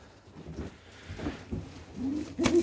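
White doves cooing in short, soft bursts spread across the clip, growing slightly louder toward the end, with low murmuring tones at close range.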